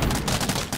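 Cannon plants fire in the video game Plants vs Zombies Fusion, a fast burst of overlapping booming shots that blur into a continuous rapid barrage, moderately loud.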